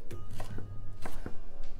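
Knife chopping jalapeno peppers on a board for vegan white bean chili, a close, loud series of irregular sharp chops with short gaps between them, with no voices over it.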